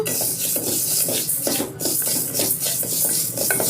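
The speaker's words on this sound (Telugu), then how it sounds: "స్టవ్ వెలిగించుకొని సిమ్లో పెట్టుకొని ఫస్ట్ లైట్గా దోరగా వేపుకుందాము" Dry moong dal being stirred in a pan on a low stove flame, a steady scraping and rustling of grains against the metal with repeated stirring strokes, close and fairly loud, with no talking.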